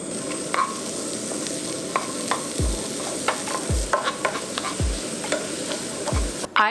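Chopped onion, carrot and green onion fry in butter over medium-high heat for shrimp fried rice, a steady close sizzle broken by repeated scraping stirs and a few soft utensil knocks, with no talking.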